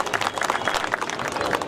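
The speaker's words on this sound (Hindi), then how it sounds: "इनके लिए भी तालियां बजा दीजिए।" An audience at an outdoor community event applauds a former mayor, a dense burst of many hands clapping together, loud and continuous throughout with crowd murmur beneath.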